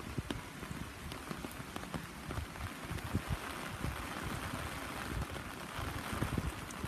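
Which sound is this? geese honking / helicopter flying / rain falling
rain falling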